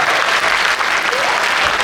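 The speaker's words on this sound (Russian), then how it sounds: "Ваши аплодисменты, друзья" Dense applause from a concert audience at a jubilee solo show, loud and even across the short stretch, a continuous crackle of many hands with no voices standing out.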